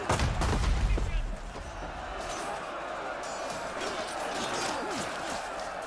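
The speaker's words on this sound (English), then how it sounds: "Artillery is flying on in." Artillery fire in a Total War multiplayer siege battle, with heavy booming impacts and crackling bursts early on, then a dense, continuous rumble of distant battle noise and clatter.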